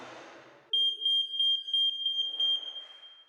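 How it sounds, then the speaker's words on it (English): A newly wired-in mains smoke alarm under test during a Georgian rectory renovation sounds a loud, piercing continuous electronic tone after a moment of background noise, with faint room sound returning near the end. "That's the smoke alarm wired in."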